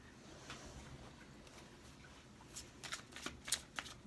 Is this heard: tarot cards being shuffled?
yes